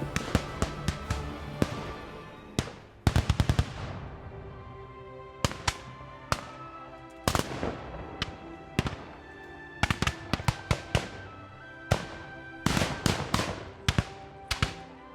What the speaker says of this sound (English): Here's what it might have sounded like outside the armory during an active battle.